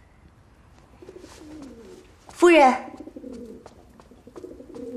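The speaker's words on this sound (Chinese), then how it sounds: "鸽子。" Pigeons coo in a low, rolling rhythm during a scene from a Chinese period drama. A voice briefly cuts in loudly over the birds, then the soft cooing carries on.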